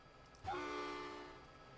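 A train horn in the Trainz Simulator 2 video game sounds once, a short clear tonal blast that starts suddenly and fades over about a second against a quiet background.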